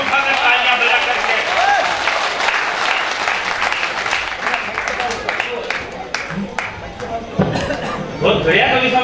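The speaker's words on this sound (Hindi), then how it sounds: "एक बार दोनों हाथ ऊपर उठाकर तालियां बजा करके" A crowd at a Hindi comic poetry gathering (kavi sammelan) claps loudly with raised hands in a long, dense burst. Shouts and voices mix in, and the clapping grows patchy near the end before swelling again.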